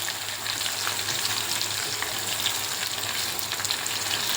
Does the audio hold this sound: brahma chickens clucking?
no